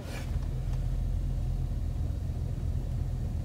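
A Toyota Tundra pickup truck reverses through snow, its engine a steady low rumble at moderate volume that runs unbroken under no talk.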